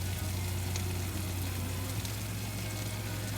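Pepper chicken masala sautéing in a pan with salt and turmeric, giving a quiet, continuous crackling sizzle over a soft low hum, steady throughout with no talking.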